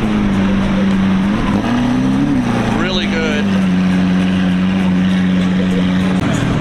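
A Lamborghini Aventador engine hums with a steady low drone that rises briefly in pitch, then settles, loud and close at an outdoor car gathering, with voices talking over it.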